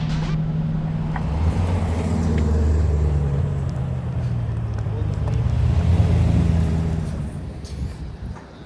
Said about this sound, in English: That's what it feels like in a C8 Corvette at least.